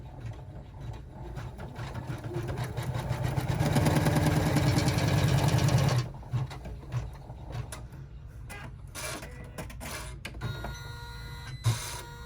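An embroidery machine stitches a tack-down line on a rucksack pocket, a rapid mechanical chatter that swells louder for a couple of seconds, then drops to softer intermittent whirring and clicks.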